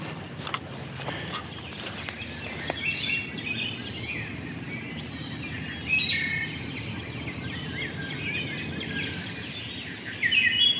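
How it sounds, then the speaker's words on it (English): A dense dawn chorus of many wild birds on a Pennsylvania ridge, singing and calling at once, steady and layered with chirps and whistles, some near and some distant. "every bird in the world is going crazy right now"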